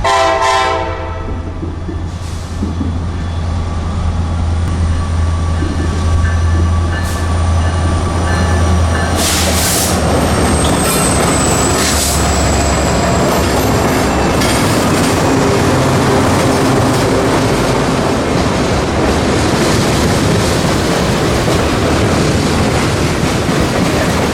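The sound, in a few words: long mixed freight train passing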